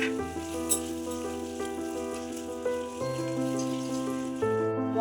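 Steady loud sizzling as spice paste of chilli and turmeric fries in a pan with egg and pre-fried potatoes, with stirring clatter and a constant musical tone running underneath, close up and without talk.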